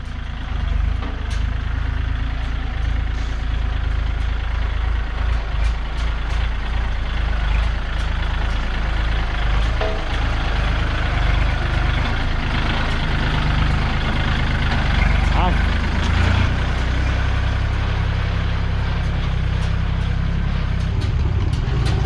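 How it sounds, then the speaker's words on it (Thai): A high-wheel LC 018 SP farm tractor with solid tires rolls downhill on a laterite dirt road, its loud, steady diesel rumble running unbroken and close throughout. "นี่กำลังย้ายแปลงครับผม รถไถล้อสูง LC 0 1 8 SP ครับ"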